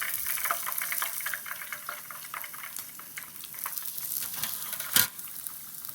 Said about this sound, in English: After 2 minutes, flip it again and fry for another 30 seconds